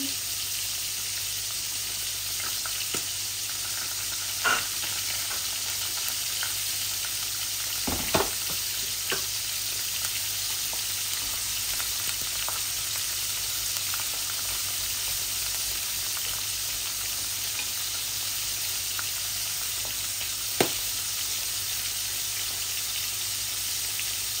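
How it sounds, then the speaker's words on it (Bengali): Garlic frying in a pan of oil for rui fish head curry, a steady soft sizzle throughout with occasional sharp pops and stirring clicks, no voices. "আমি রসুনটা দিয়ে দিচ্ছি।"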